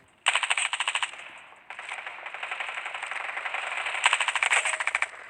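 Rapid automatic gunfire from a weapon in a shooter video game crackles in three long bursts, loud and close, with a brief lull between them and no voices.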